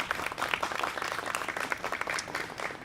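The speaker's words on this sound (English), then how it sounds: "Please give Josie a big round of applause." An audience at a talk on witchcraft ethics breaks into dense, continuous applause, many hands clapping at an even level throughout with no voices over it.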